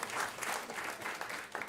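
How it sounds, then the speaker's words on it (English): A seated audience at an agriculture panel event gives a round of applause for a panelist, steady close clapping with slight swells, no voices over it. "Please give her a round of applause."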